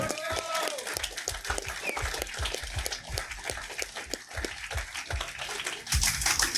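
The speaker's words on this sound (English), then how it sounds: "So big round of applause for him." Applause from a gathered audience at a rugby league end-of-season awards night, a steady wash of clapping lasting several seconds with a brief surge near the end, mixed with some background talk.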